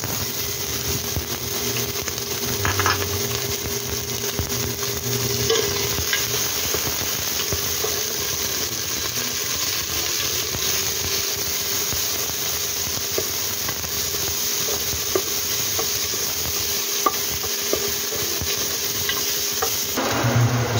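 Onion and tomato sautéing in a pan for pork sinigang, with a steady low sizzle and occasional stirring scrapes running continuously under a constant background hum, no talking.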